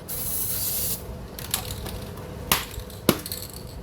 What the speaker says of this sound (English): Always clear your nozzle.